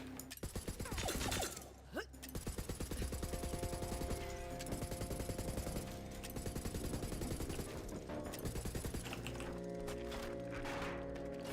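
Rapid bursts of automatic gunfire from the Shredderfire weapon in the shooter game Borderlands 3, dense and continuous over game music and effects, with short gaps between sustained volleys.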